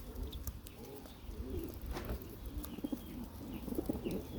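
Pigeons coo softly and close by, in low, repeated throaty calls over a quiet, slightly noisy background. A few chirps and faint flutters come through, and no one speaks.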